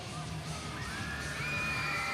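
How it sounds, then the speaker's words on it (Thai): A crowd screams and cheers for a contestant at the semifinal of a Thai competition. The roar is loud and steady, with shrill whistle-like cries rising above it. "ฟังเสียงกรี๊ดก็พอครับ"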